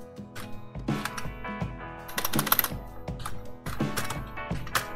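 Clicky keyboard typing in quick, uneven bursts, with sharp key strikes and rattling clacks, close and fairly loud with no talking.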